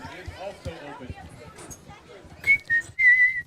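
Someone whistles a few clear, high notes in short bursts after a stretch of background chatter and voices.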